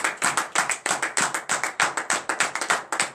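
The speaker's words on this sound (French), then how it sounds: "Donnez l'acclamation à l'Éternel, frères et sœurs en Christ." A congregation claps in a steady, rhythmic beat at a morning prayer service in Benin. The sharp, close hand claps fall in quick, even succession, with no talk over them.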